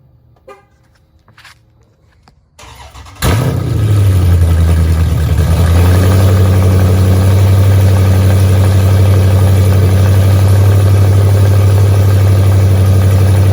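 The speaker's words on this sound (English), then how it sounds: "So this is a video of how it sounds with open headers with no Catless mid pipes on." A 2015 Dodge Charger engine with open long tube headers and catless mid pipes starts after quiet handling noises, then settles into a loud, deep, steady idle rumble.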